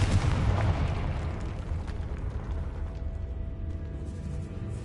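A Confringo blasting spell explodes in the Hogwarts Legacy video game, a loud, dense booming blast that rumbles on steadily for about five seconds with no voices.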